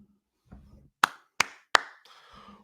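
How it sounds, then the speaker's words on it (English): Three sharp, close hand claps ring out in quick succession after a soft muffled rustle, with quiet between them. "We're going to clap it up for Conner Weigman."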